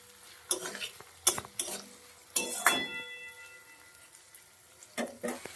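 Chicken liver stirred in a pan with dry-roasted spices, a spatula scraping in a few distinct bursts over a soft background sizzle, with quiet gaps between strokes.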